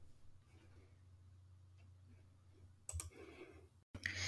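A computer mouse gives a few sharp, close clicks after a stretch of quiet room hum, with one louder double click near the end.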